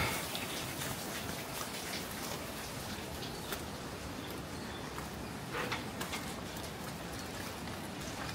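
Steady rain falls while walking through a residential village settlement in Bogor, a dense even hiss of drops with occasional louder spatters and patters on nearby surfaces throughout.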